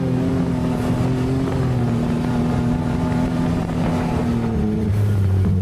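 A Maverick R UTV engine runs steadily while riding sand dunes, a continuous loud drone with a slight rise near the end, no talking.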